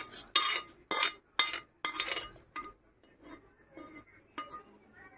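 A spoon scraping and clinking against a bowl while mixing curry leaf chutney with tempering, several sharp metallic taps in a loose rhythm, then quieter stirring sounds, close and alone.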